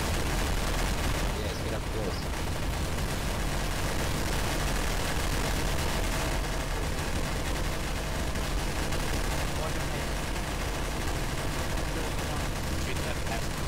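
Dense, continuous gunfire from a Counter-Strike: Source match fills the whole stretch, loud and relentless bursts blending into a wall of shooting, with voices talking underneath.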